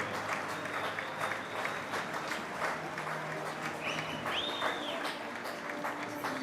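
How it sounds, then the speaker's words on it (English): A large crowd applauds the Swiss home team at a European timbersports competition, steady distant clapping that runs throughout, with a few faint whistles and crowd noise mixed in. "Tons of applause from the audience for the Swiss team, of course, as the home team."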